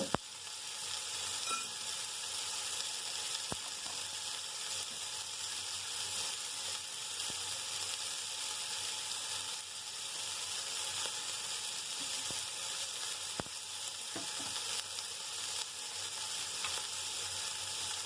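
Sardine kofta balls fry in hot oil in a pan and get turned over, giving a steady close crackling sizzle with a few faint clicks of the pan throughout, and no talking.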